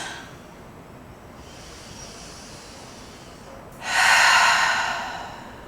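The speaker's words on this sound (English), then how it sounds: "Taking a couple of big deep breaths." Slow deep breathing during a yoga session on a mat, a soft drawn-in inhale followed by a louder, breathy exhale, close and quiet with no talking.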